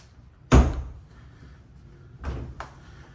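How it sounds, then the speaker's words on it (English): A pair of French doors on a linen closet in a Florida home hallway, opened with a sharp thump followed by a couple of softer knocks and latch sounds, close and clear with no talk. "We have a linen closet here with the French doors."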